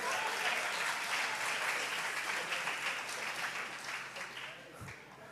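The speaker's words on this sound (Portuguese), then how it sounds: "Vamos aplaudir Jesus por isso." Steady applause from a church congregation fills the room, moderately loud and continuous, fading slightly toward the end.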